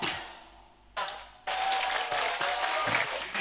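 Crowd applause at a sermon gathering, starting faint and swelling sharply at about one and a half seconds into a loud, dense burst of clapping that continues steadily to the end.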